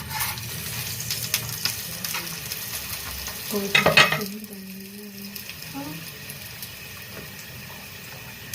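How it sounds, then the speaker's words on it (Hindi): Ghee sizzling as a paratha fries on a hot pan, a soft steady crackle that flares louder for a moment before settling back to a low hiss. "अब मैं घी लगा रहा हूँ।"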